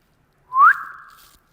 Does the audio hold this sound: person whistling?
yes